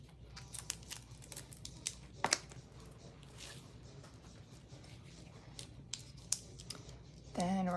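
Scissors trim excess vinyl around an edge with a series of quiet, close, irregular snips and light crinkling, ending with a brief voice.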